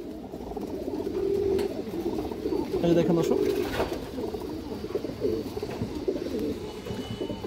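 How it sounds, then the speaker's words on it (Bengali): Silver female pigeons coo steadily, close and continuous, while someone talks over the birds throughout. "সিলভার মাদি কবুতর আছে মাশাআল্লাহ, খুব সুন্দর একটা সিলভার মাদি কবুতর।"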